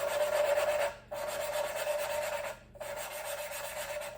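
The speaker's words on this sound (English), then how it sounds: "You'll hear the sound of the compound. It's gonna be a lot smoother if I don't do it." Valve lapping compound grinding between an engine valve and its seat, a continuous gritty rubbing rasp in three strokes separated by brief pauses, close and steady with no voices.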